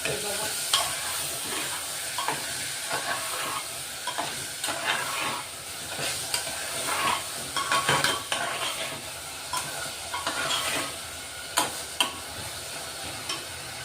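Chana dal and bottle gourd sizzle in a pressure cooker while a spoon stirs them repeatedly. The scrapes and clinks come in an irregular rhythm over a continuous hissing fry, close and fairly loud.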